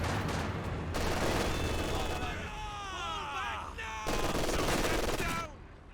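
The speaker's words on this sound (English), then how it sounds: "Start getting the rocket artillery cooking." Katyusha rocket artillery firing in Company of Heroes 2, dense crackling salvos with whistling, screeching rocket streaks trailing off between bursts, loud and close, with gunfire and battle noise mixed in.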